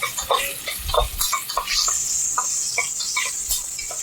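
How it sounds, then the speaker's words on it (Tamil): Mutton curry base with salt and turmeric sautéing in oil, a close sizzle broken by repeated scraping and clinking stirs of a utensil against the pan. "இந்த உப்பு மஞ்சத்தூள் சேரும்போது இது ஆன்டிபயோட்டிக்கு அயோடின் ஆன்டிபயோட்டிக் இதில் வந்து எண்ணெயில் நல்லா வதக்கிங்க"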